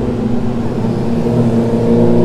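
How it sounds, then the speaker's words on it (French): Motorcycles ride along a busy Saigon street near the Notre Dame cathedral, a loud, close, continuous engine drone with a humming tone. "Je ne sais pas si vous entendez le son fait par cette moto ou non"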